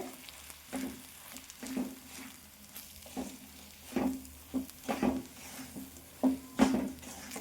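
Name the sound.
roasting semolina (sooji) in a pan for rava upma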